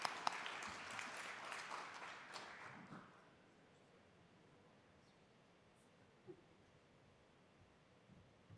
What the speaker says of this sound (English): One more round of applause for all these amazing teachers.